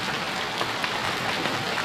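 Heavy rain pours down steadily and loud, a dense, continuous hiss of drops hitting surfaces close by with no break in its intensity, and no voices over it.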